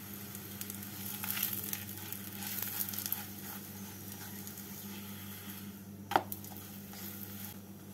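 Sweet chapati, a sweet paratha, fries in a pan with a steady, soft sizzle close by. A single sharp clink sounds near the end.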